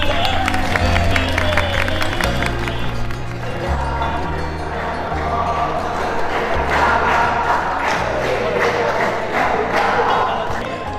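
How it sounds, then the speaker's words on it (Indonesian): An audience at a gathering with junior high school students claps and cheers for several seconds in a steady, crowded wash of applause, with a few voices calling out over it. "Tepuk tangan dong."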